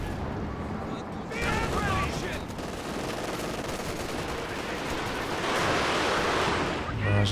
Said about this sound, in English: Barrage into the center.